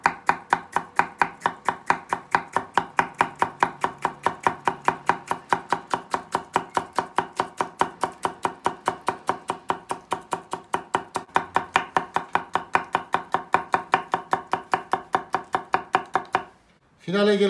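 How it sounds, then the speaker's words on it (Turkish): An onion is chopped with a knife on a countertop in fast, steady, evenly spaced strikes, well over a hundred, close and crisp, stopping abruptly just before the end. "doğramaya başladık. Hep aynı yere vuracağız."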